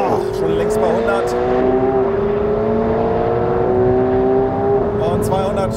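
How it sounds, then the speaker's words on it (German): A supercar launches at full throttle using launch control, its engine howling as it climbs through the gears in a series of rising sweeps with brief drops at each shift, loud and sustained while someone talks excitedly over it. "Launch Control, Festbremsen, Vollgas, Schubaufbau und ab geht's!"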